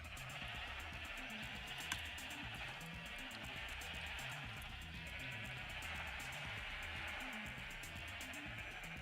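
Sheep bleating in the Minecraft video game, a steady run of repeated calls sounding fairly close and continuous over a game soundtrack bed.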